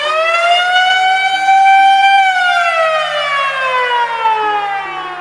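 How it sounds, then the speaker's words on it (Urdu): A wailing civil-defense-style air raid siren sounds at 7:57 AM, rising and holding steady, then slowly falling in pitch, loud and alone with no voices, its rising and falling tone sustained over several seconds. "صبح کے ٹھیک 7:57 AM پہ ڈولس کو ایک سائرن سنائی دیتا ہے"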